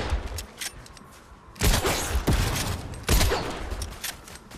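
Video game gunfire rattles in rapid, dense bursts, with several loud volleys of overlapping shots close up and fainter pops between them.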